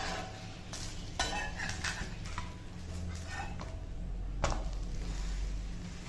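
A flipped weight-loss dosa cooks on a pan with a soft, faint sizzle under a low hum, broken by a few sharp clinks and scrapes of utensils against the pan.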